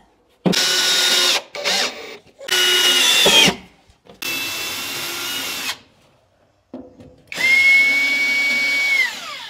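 Power drill driving screws to fasten a range hood flue backplate during kitchen installation, loud close bursts of whirring in four or five separate runs with short pauses between them.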